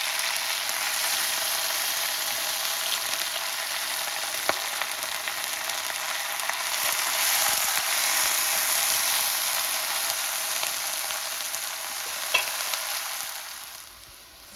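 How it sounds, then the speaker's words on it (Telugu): Gongura leaves fry in a hot pan with a steady, dense sizzle that holds for the whole stretch, broken only by a couple of sharp clicks, with no talking. "ఇప్పుడు గోంగూర ఆకులు వేసుకుని వేపుకోవాలి."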